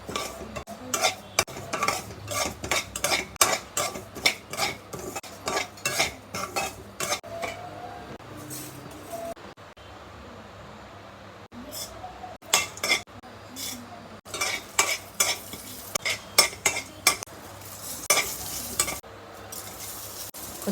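Tempering spices frying in oil in a kadai while being stirred, with frequent sharp clinks and scrapes of a utensil against the metal over a soft continuous sizzle, close and fairly lively, with a brief calmer stretch midway.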